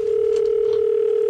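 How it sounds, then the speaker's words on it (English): A telephone line gives off a steady, unbroken dial tone, clear and continuous, on a prank phone call. "This is Jim as I scam him with another phony phone call"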